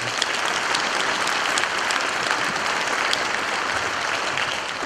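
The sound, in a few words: audience applause for the outgoing association president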